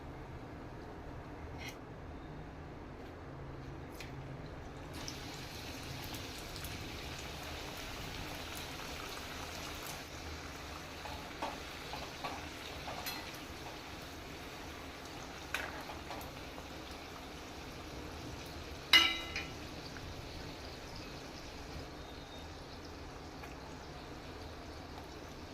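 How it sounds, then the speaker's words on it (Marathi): Fresh coconut karanji pastries frying in hot oil, a soft steady crackling sizzle that carries on throughout, with occasional faint clinks and pops on top. "याप्रमाणे बाकीच्या करंज्या सुद्धा तळून घेऊया."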